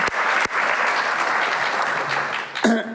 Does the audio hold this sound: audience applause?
yes